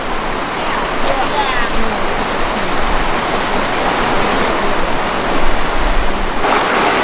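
A cold river flows past hot springs in Colorado, a loud steady rush of running water filling the scene continuously, with a voice faintly under it.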